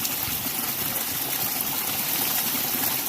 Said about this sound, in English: taking a 1 liter bottle and filling it up straight from the